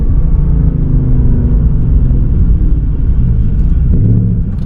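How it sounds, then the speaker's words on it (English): A 2024 Ford Mustang GT engine rumbles loudly and steadily from inside the cabin, with a quick rev-matching blip near the end as the gear drops. "Here's rev matching."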